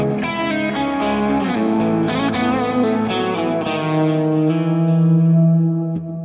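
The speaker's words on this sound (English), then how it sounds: "so we can really hear this chorus come through" Electric guitar run through a ToneX pedal on a Marshall amp profile with chorus engaged: distorted, sustained chords ring out with a shimmering, swirling wash and a roomy reverb tail, played alone without talk.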